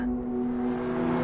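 A steady Alfa Romeo Stelvio Quadrifoglio SUV engine hum drones close up, a sustained low tone rising slightly toward the end.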